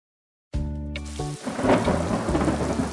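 A deep rumble of thunder rolls in and gives way to steady, heavy rain pattering close by, with low booms continuing underneath.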